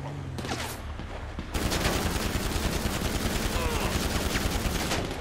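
Gunfire crossfire rips through a GTA 5 Online firefight: a dense, continuous barrage of rapid automatic shots, loud and close, intensifying after the first second and sustained to the end.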